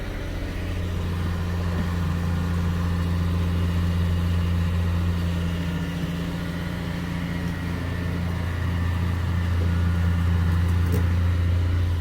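Tow truck engine running steadily near an Audi project car being hauled away, a continuous low rumbling idle with no speech.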